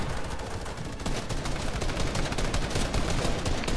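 Gunfire in a shooter video game during a boss fight: dense, continuous rapid shots form a loud, crackling barrage throughout, with a brief dip before it resumes.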